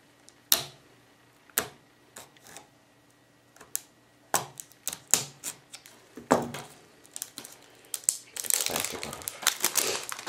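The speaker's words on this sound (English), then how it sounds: "So let's go ahead and cut" Plastic wrap on an Xbox 360 game case being cut open: sparse, close crinkles and sharp snips, then a denser burst of crackling plastic toward the end, with no talk.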